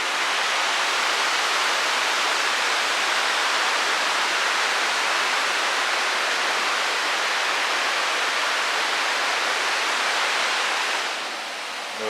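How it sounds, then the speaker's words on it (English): Small waterfall in Glen Tilt, a steady, dense rushing roar of falling water heard close and unbroken throughout. "There's a wee waterfall."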